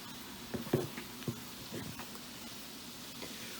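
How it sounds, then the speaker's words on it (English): Vegetables, spinach and mushrooms among them, sautéing in a pan: a faint, even sizzle with a few soft clinks and stirring scrapes near the start, quiet and close. "just kind of saute your vegetables and get them mostly cooked"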